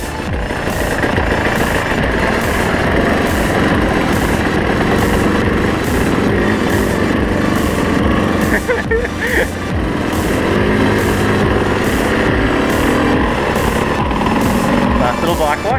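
Motorbike engine running steadily while riding on a dry day, a continuous loud drone with rough vibration and wind noise throughout, briefly dipping midway.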